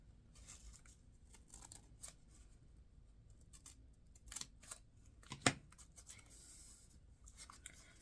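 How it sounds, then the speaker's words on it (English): Scissors cutting book pages along marked lines for book folding: faint, soft snips and paper rustles at an irregular pace, with a few sharper crisp cuts, close and quiet. "you're going to go ahead and cut on the lines"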